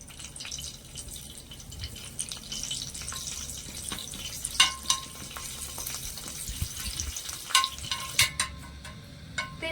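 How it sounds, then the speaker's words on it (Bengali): Curry leaves, mustard seeds and dry chilli sizzle in hot oil, a steady close crackle broken by a few sharper pops and spits as the leaves hit the pan; no voices. "এবার আমি এখানে কয়েকটা কারি পাতা নিয়েছি কারি পাতাগুলো দিয়ে দেবো"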